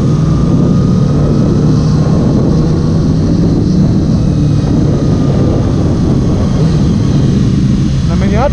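A 2019 Yamaha R6 motorcycle on its first ride gives a loud, continuous engine drone mixed with heavy wind rumble, holding fairly steady throughout.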